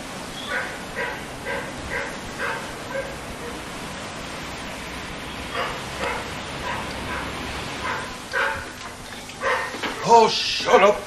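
A dog gives a run of evenly spaced yips and barks, moving into whimpering howls with louder, closer bursts near the end, over faint background noise.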